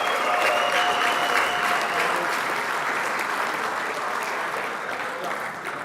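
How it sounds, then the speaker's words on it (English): Applause from the crowd at an RC racing world championship awards banquet, a broad continuous wash of clapping that holds steady, then eases slightly toward the end. "Keep that applause loud and proud."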